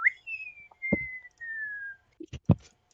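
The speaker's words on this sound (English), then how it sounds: "all of a sudden that you hear something akin to a whistle" Whistle sounds with no voices present: a sharp rising note, then a long sustained tone that slowly falls in pitch, followed by a few brief clicks and taps.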